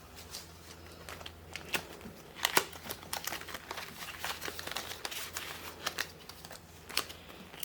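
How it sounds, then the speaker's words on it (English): Paper cash being handled and slipped into a bank envelope: close, dry crinkling and rustling with sharp flicks and scattered taps, fairly quiet and steady, with no talking. "I'm just actually going to stick this cash into my to bank envelope"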